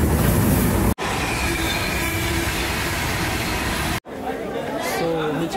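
A train rumbles and clatters through a crowded Chandrapur railway station, its wheels squealing over a loud, continuous roar while crowd chatter runs underneath, cut twice by abrupt breaks.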